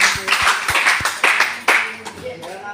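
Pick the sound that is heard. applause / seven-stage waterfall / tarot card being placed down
applause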